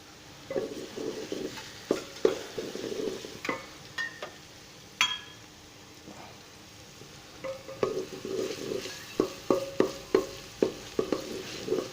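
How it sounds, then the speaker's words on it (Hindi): Soft sizzling of garlic paste frying in a pan for garlic rice, with intermittent scraping and stirring, a few sharp clinks of a utensil against metal, close by. "अभी हम इसको लहसुन की पेस्ट को अच्छी तरह फ्राई कर लेते हैं"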